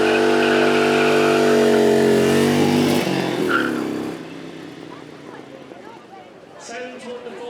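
A V-twin three-wheeler engine revs loudly up close for a few seconds at a track event, then cuts off, leaving quiet background noise and faint movement.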